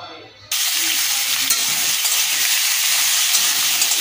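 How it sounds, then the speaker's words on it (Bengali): Chopped carrot and capsicum hit hot mustard oil in a kadai, setting off a loud, steady sizzle that starts suddenly after a brief quiet moment and holds evenly to the end. "কড়াতে তেল বসিয়ে দিয়েছি সর্ষের তেল এবার সবজিগুলো একটু ভেজে নেব"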